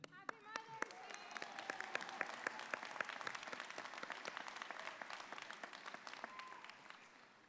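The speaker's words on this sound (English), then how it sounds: "So request for a round of applause for Mother's Day on Sunday" Round of applause at a graduate hooding ceremony, many distinct claps rising into a dense patter from a sizable crowd, with a voice heard briefly near the start, then tapering off at the end.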